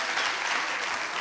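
A crowd claps steadily and densely, a continuous wash of applause filling the whole moment.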